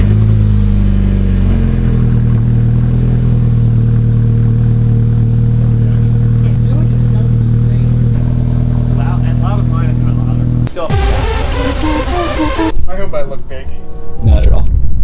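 A car engine and exhaust fitted with a new downpipe drone loudly at idle and under revs, then rise into a sharp, loud rev burst near the end while people talk.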